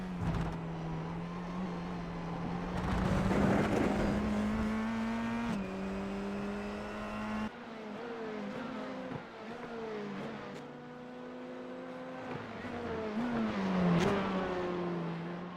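An F4 race car at Circuito de Navarra in a racing game screams at full throttle, a sustained high engine tone climbing through gears with brief drops at shifts, heard under commentary.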